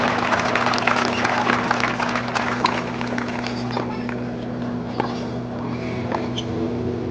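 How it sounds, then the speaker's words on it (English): An audience at an outdoor Challenger tennis final applauds for the chair umpire, a dense, steady patter of clapping hands at moderate distance continuing throughout, with scattered sharper claps and faint voices under it. "let's get a warm round of applause for our chair umpire today"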